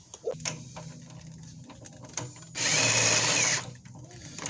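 A jack raises a car transmission to take its weight off the stand. A steady mechanical whir runs for about a second amid scattered small clanks and knocks.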